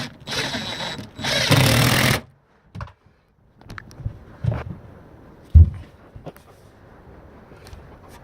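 A power drill drives screws into glued attic floor panels, giving two long buzzing bursts followed by scattered knocks, clunks and short whirs of handling nearby.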